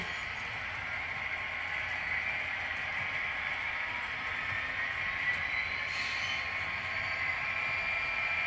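An HO scale model train locomotive runs long hood forward on a layout track, giving a steady close mechanical whir and faint rail rumble throughout with no breaks.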